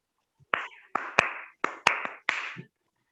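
A teacher demonstrates single hand claps for an online class, with six crisp, close claps in an uneven rhythm across about two seconds. Each clap stands alone, with only a faint trace of a voice nearby.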